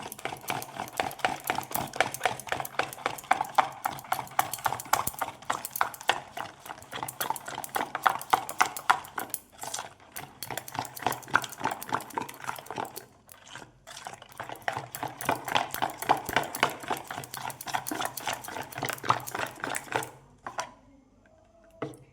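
Egg being stirred into a flour batter for thin paper-like roti, giving a steady rhythmic wet clicking and slapping close by that fades out toward the end, with no talking.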